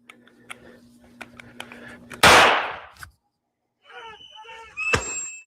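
A single loud, sharp gunshot bursts out mid-clip from an accidental Sig Sauer P320 discharge in bodycam footage, trailing off in a roar of echo, with faint radio chatter and movement before it and a sharp squeak after.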